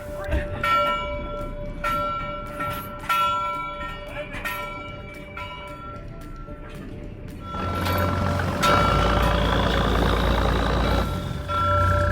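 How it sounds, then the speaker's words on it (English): A bell rings aboard a lobster fishing boat off Milbridge, Maine, with clear metallic clangs struck in a steady rhythm. Later a louder engine drone rises and covers the ringing. "Ring that bell, boys!"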